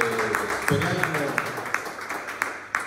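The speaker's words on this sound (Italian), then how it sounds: "un grande applauso." Scattered audience claps ring out after a lecture on human evolution, sparse and uneven, starting under a speaking voice and continuing as light applause.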